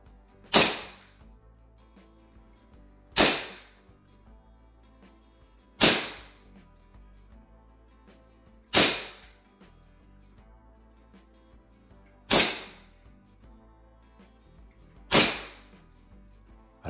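Gas-powered airsoft Colt 1911 pistol firing 0.20 g BBs through a chronograph: six sharp, loud shots spaced evenly about three seconds apart, each a crisp snap with a short decay, with quiet between.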